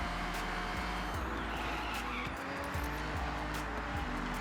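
An Aston Martin DB7 GT in the Forza Horizon 6 racing game slides through a corner with a constant loud engine drone. Pitch sweeps show shifting and revving while the tyres scrub faintly beneath it.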